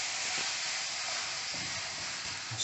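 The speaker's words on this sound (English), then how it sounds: "Oh, I hear it sizzle" Venison fillet and asparagus sizzle on an air fryer health grill with a steady, close hiss that fills the whole moment, faint crackles popping through now and then.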